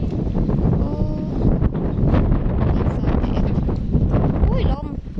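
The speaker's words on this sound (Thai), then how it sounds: "อุ้ยลม" Outdoor wind buffets the microphone with rough, gusty rumbling. People talk through the noise.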